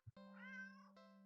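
A black cat in an indie horror game gives a single clear, close meow that rises and falls in pitch and holds for about a second, following a short soft thump, with no voices over it.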